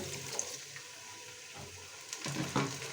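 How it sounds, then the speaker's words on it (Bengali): Water poured in small splashes onto spice paste frying in a multicooker, with a steady sizzle that bursts louder near the end as the liquid hits the hot paste. "এখন একটু পানি দিয়ে দেবো সামান্য"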